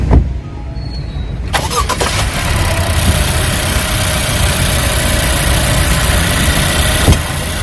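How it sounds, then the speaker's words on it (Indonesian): A car engine cranks and catches after a short whir, then settles into a loud, steady idle that rumbles close by without pause. "Untuk mesin ini harus diperhatikan, gue nyalain dulu guys."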